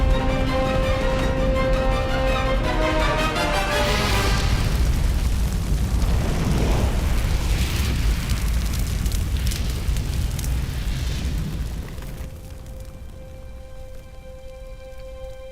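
Grassland wildfire burning across the Mongolian steppe, a dense continuous crackling roar with sharp popping textures, loud and close, easing slightly toward the end.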